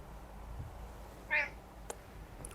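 A house cat gives one short, clear meow partway through, close to the microphone, against a low steady background hum with a couple of faint clicks.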